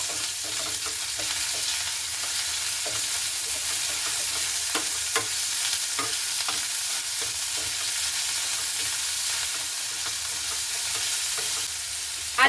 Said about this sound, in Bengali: চিকেন পেস্টটাকে একটু ভালো করে ভেজে নেব